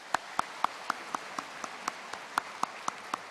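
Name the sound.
congregation applause in church service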